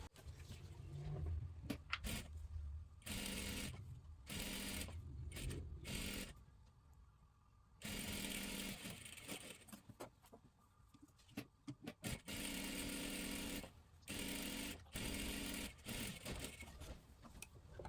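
A sewing machine stitches a kurti top in repeated bursts of running, with brief stops and restarts between seams, heard close and alone.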